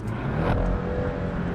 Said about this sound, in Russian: Это включает спортивный выпуск на 20 секунд